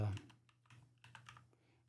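Someone types on a computer keyboard in irregular bursts of soft, close keystrokes, heard over a steady low hum after a brief loud thump at the start.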